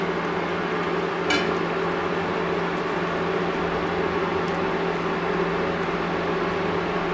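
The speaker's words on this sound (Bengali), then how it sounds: "ঝোলটা ফুটছে, ঝোলের মধ্যে দিয়ে দেব এবার ভেজে রাখা মাছ।" A pot of fish curry bubbles at a steady low simmer, a continuous hiss-like boil with no voices, holding an even level for several seconds.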